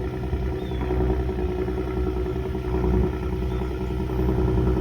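The exhaust of a Ford Raptor with a high-powered twin-turbo V6 rumbles low and steady nearby, a close, even drone with a slight idle throb and no voices.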